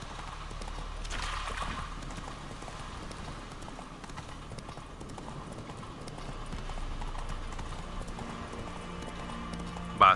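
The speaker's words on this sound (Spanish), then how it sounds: "no, no va a pie, se va en el caballo" Hooves of a horse in the video game The Witcher 3 clip-clop in a steady galloping rhythm as it rides away, fairly soft against ambient game sound, ending with a sharp click.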